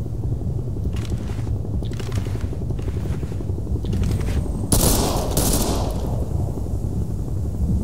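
Gunfire in the Ghost Recon Phantoms shooter video game: rapid automatic bursts rattling continuously, growing into a dense loud volley midway, heard without talk.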